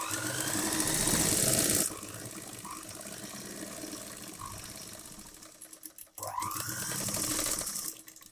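A sewing machine runs through chudithar pant fabric in two loud bursts of steady, rapid stitching, the first about two seconds and the second near the end, with quieter handling and mechanical clicks between them and no talk.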